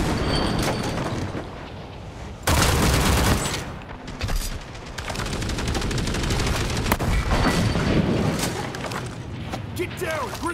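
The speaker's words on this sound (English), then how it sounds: "Throwing a grenade!" A grenade blast amid a World War II shooter battle in World War Heroes, with dense bursts of gunfire and loud booming impacts packed close together, and voices shouting over the din.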